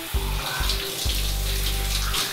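Shower water pouring and splashing steadily, loud and close, with a low pump-like hum cutting in and out in several bursts.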